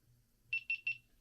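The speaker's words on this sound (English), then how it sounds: "it gives us a little beep on the stability" A digital scale used for loading ammunition gives three short, evenly spaced electronic beeps when its reading stabilizes, clear and close against a quiet background.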